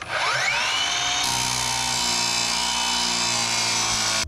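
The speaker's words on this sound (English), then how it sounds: "Now that my floor tracks are cut, I'm going to grind off any burrs that are sticking out or sharp edges." A power tool whines loudly and continuously as it cuts plain steel floor tracks for a Ford Transit cargo van, rising in pitch as it spins up and then holding a harsh, steady grinding scream.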